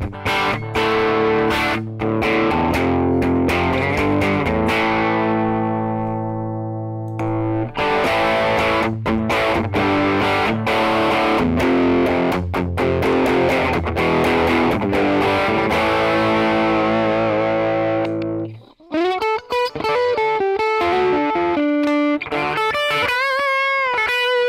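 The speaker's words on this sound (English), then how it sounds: "Now let's have a listen with a different guitar, with humbuckers, the same settings" Electric guitar with humbucker pickups played through a Guitar ML neural amp model of a Mark IIC Plus, loud and steady distorted rhythm chords, then clean arpeggiated notes ringing near the end.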